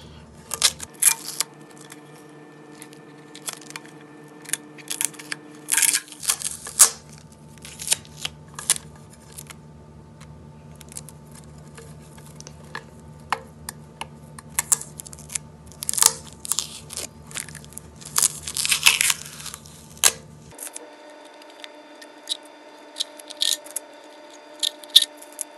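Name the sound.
peeling painter's tape off a glass lantern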